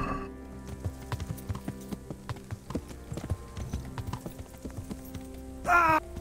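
Horse hooves clip-clop steadily at a walking pace in the medieval video game Kingdom Come Deliverance, up close with game music beneath, ending in a brief loud whinny near the end.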